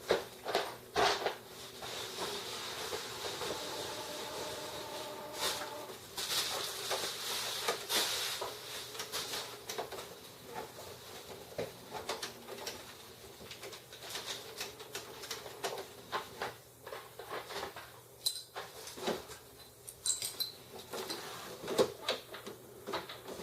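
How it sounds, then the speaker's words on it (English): A Canon IX6850 inkjet printer runs a purging and cleaning cycle, whirring and clicking for a long stretch, with mechanical clatters, brief motor buzzes and irregular ticking, fairly close and steady with no voices. "it always seems to take forever when they run through a purging and a cleaning cycle"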